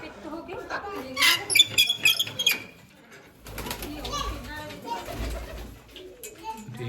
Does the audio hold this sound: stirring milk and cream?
no